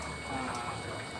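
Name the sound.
aquaponics pump pushing water up the downspout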